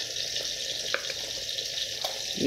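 Mung dal fries in mustard oil inside a pressure cooker. The hiss is a steady, close sizzle with a few faint clicks and a brief louder stir at the end, and nobody speaks.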